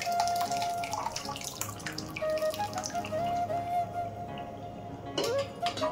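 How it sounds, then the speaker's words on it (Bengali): Water drains from freshly made chhana (cottage cheese) poured into a sieve, a continuous trickling and splashing close by, with a brief louder gush near the end. "ছাঁকনিতে করে ছেঁকে নেব।"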